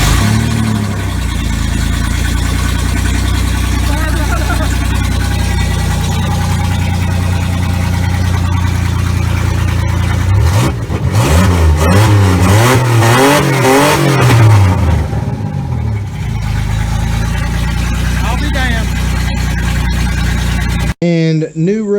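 A car engine runs loud and close on fresh spark plugs after nitrous damage, holding a rough idle before several rising revs and falling back, with voices talking over it.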